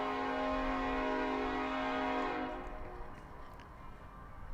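Train horn sound effect from a tabletop RPG soundboard, a steady multi-tone horn blast held for about two seconds before fading away into quiet rumble.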